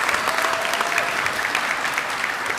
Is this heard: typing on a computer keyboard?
no